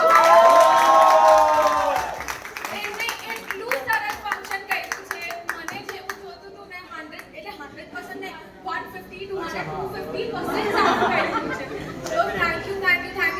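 An audience at a live event applauds and cheers for the anchor: a voice rings out first, then a rapid spread of hand claps with crowd chatter, easing off and swelling again toward the end, with talking mixed in.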